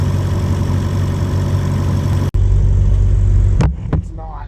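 A sailboat's engine idles with a steady low drone while motor sailing under sails, continuous and close, then cut by a brief dropout and a couple of sharp knocks near the end.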